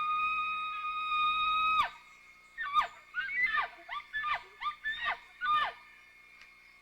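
Man at a Colorado elk hunting camp imitating an elk bugle with a call, a long sustained high whistle followed by a series of broken grunting squeals, moderately loud.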